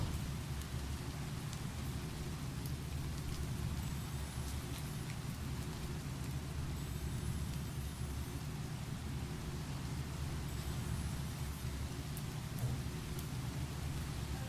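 Steady cold rain falls in hardcore Minecraft, a continuous dense hiss of drops with a low rumbling undertone, even and unbroken throughout with no voices.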